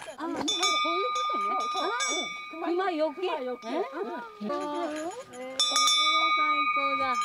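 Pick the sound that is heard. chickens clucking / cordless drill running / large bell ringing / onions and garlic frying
large bell ringing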